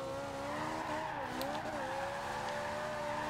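A Ferrari in Forza Horizon 2 holds a steady, loud engine drone, its pitch dipping and rising slightly as the tires squeal briefly, with no talking.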